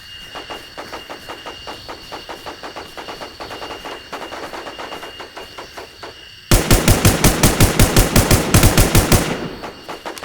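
Sustained automatic gunfire in the survival shooter Infestation The NewZ: a rapid, evenly spaced burst stream of shots, moderately distant at first, then a much louder, closer burst that stops abruptly near the end.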